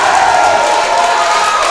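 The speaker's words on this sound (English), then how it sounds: "You see all that cheering? All that cheering." Wrestling arena crowd cheering loudly and steadily, a dense continuous roar of voices at close range with no break.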